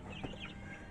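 Farm chickens or ducks cluck in a short, steady stream of soft calls, with one brief sharper note, set against continuous yard background noise.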